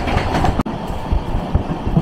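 Konkan Railway train 10115 runs near Kaman Road station with a loud, steady close rumble and clattering wheel beats, broken by a brief dip in the noise.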